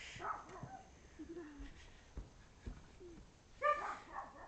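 A puppy gives soft whimpers and small yips up close in a quiet room, with brief wet licking sounds and short knocks between them.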